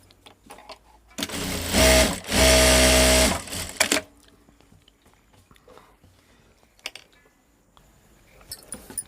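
A sewing machine stitches a blouse in two quick, close runs, a short burst and then a steadier whir of about two seconds, loud and near with no talk over it.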